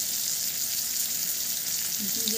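A paste of cumin, salt, turmeric and chili sizzles and fries in hot oil for a home-style prawn curry, a steady close crackle throughout with no talk.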